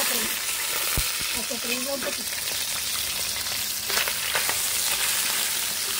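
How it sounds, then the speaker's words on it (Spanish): Cooked chicken gizzards sauté in a hot pan with a steady crackling sizzle and occasional stirring scrapes, heard close, with brief vocal sounds early on. "ya están cocidas, pero vamos a sofreír un poquito"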